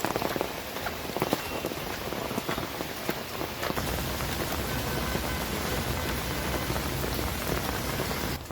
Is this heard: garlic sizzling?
no